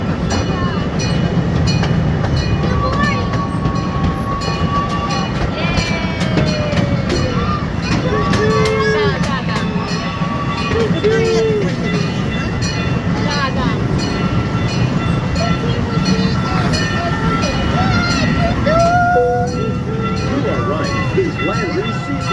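The Kemah Boardwalk amusement train ride rumbles along continuously with rolling wheel noise and faint squeals, steady and close, while voices and a recorded announcement sound faintly over the ride.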